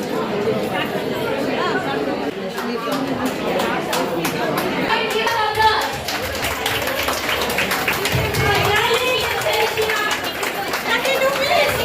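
An audience claps to welcome a child, a mix of scattered clapping and crowd chatter with voices talking over it, sustained at moderate loudness throughout.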